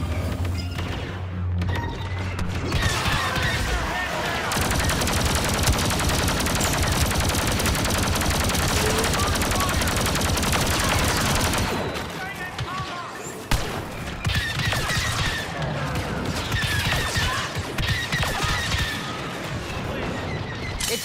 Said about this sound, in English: I need heavy fire on these Imperials.